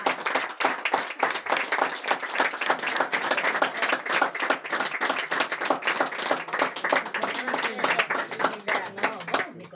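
Close, lively clapping from a small crowd at a primary school diploma ceremony, dense and rhythmic for about ten seconds, with voices faintly underneath.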